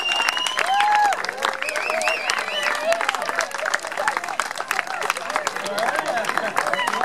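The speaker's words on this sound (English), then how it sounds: "More thunderous applause" Outdoor applause at a garden tile wall unveiling, steady clapping from a gathered crowd lasting several seconds, mixed with cheers, whoops and chatter from people nearby.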